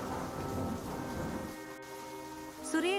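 Steady rain hisses over a low background rumble, thinning out midway; a brief tonal sound rises near the end.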